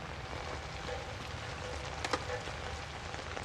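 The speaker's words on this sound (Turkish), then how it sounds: "Ama yağmur yağıyor." Rain falls steadily in the horror game Outlast, a soft, even hiss of drops on surfaces, faint and continuous, with one slightly sharper patter midway.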